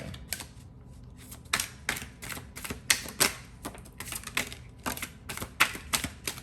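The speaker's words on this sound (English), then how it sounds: "A few more shuffles," Tarot cards shuffled by hand up close, a steady series of sharp crisp riffles and snaps repeating in quick bursts over several seconds, with no voices.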